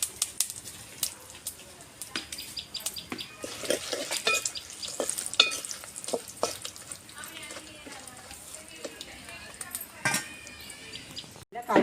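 Dried red chilies and chana dal frying in hot oil, with a busy crackling sizzle full of sharp pops and stirring scrapes throughout.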